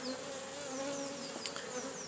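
Honeybees buzzing around a hive disturbed after frames pulled out of the super, a close, steady hum with individual bees whining past.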